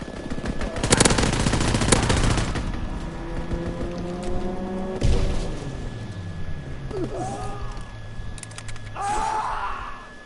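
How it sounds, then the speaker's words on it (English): Strafing fire from a fighter plane in the WWII shooter Call of Duty WWII: a loud burst of rapid gunfire early on, then scattered shots and impacts with a whooshing swoop and game effects, no talking. "Fighter pilot inbound, strafing the target."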